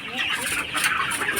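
Many chickens on a poultry farm of about 1200 birds cluck in a dense, continuous chorus, loud and close, with a little voice mixed in.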